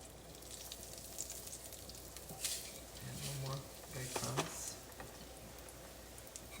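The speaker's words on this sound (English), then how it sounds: "Here it's starting to sizzle a little bit." Soft sizzling of breaded chicken patties frying in a pan, a steady crackle with a few faint clinks and brief tones over it.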